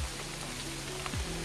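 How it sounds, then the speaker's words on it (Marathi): A brief stretch of heavy rain falling in the Matheran forest gives a steady, dense hiss of drops pattering close by, with no talking. "खूप मोठा पाऊस आलाय त्यामुळे आम्ही एका झाडाखाली थांबलोय."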